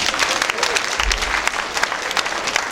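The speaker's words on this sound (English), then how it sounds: "Give them a round of applause." An audience at a university dance marathon breaks into applause, a dense burst of close clapping that fills the whole moment at steady strength, with a few voices mixed in.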